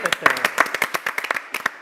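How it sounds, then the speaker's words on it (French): Studio audience clapping on a French-language television talk show: quick, close, uneven handclaps in a brisk patter, with voices talking over them. "Non, mais on peut applaudir."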